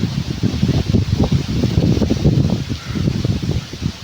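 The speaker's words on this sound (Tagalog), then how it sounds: "Sobrang lakas ang hangin dito" Very strong wind buffets the microphone in loud, pulsing low rumbles and gusts, with no break in the roar.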